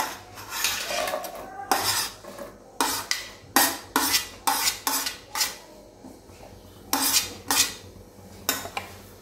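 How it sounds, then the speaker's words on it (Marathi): Finely chopped onion sautéed in butter in a kadhai for pav bhaji, heard as loud rhythmic scraping and clanking of a metal spatula against the pan, repeated stirring strokes over a faint sizzle. "आता कांदा आपल्याला छान गुलाबी रंगावरती व्यवस्थित परतून घ्यायचा आहे"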